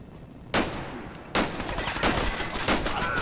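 Gunfire in Fallout 4 during a fight in Lexington, a few loud separate shots roughly half a second to a second apart, sharp and close, over a busy game background.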